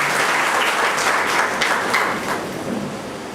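Dense, steady applause from a seated crowd at a Guhraj Nishad Jayanti community gathering in 2010. It fills the whole stretch at an even level and eases slightly near the end.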